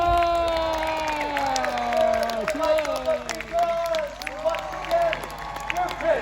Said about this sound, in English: Let's have a cheer for the Knight of the Crown!